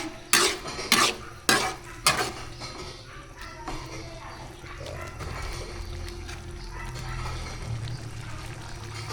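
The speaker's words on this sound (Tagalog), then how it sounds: "Siyempre, pag kumulo na yan, haluin natin." Food stirred in a cooking pot, with four sharp close clinks of a utensil at the start, then a steady low bubbling and scraping bed running throughout.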